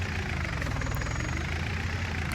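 Tractor engine idling in the Farming Simulator 19 video game, a steady, continuous low rumble with a faint knocking texture, even in level and heard alone.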